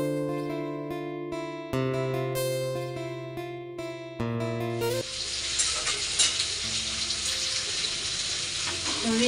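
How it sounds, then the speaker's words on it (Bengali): Potatoes frying in a pan give off a loud, steady, crackling sizzle over the second half of the clip, after several seconds of music. "আলু ভাজা হচ্ছে"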